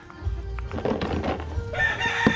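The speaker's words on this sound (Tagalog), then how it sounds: "itong manok na to" A rooster, a golden gray fighting cock, crows loudly and close by in one long drawn-out call, followed by a shorter rising note near the end.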